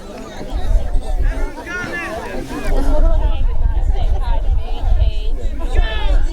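A crowd gathers at a 2004 high school AA district quarterfinal soccer match, Radnor vs Upper Perkiomen, filling the air with a steady, fairly loud babble of overlapping voices that swells slightly partway through.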